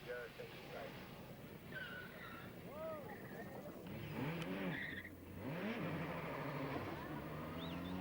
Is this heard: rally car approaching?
yes